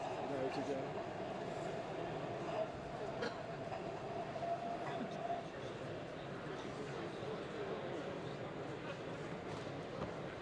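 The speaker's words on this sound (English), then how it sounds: "If I run that loco up, you can come over the crossover and bring it in." A DCC sound-fitted model train locomotive running over a crossover on an exhibition layout gives a faint, steady rumble with a thin tonal hum, with people talking nearby at a busy show.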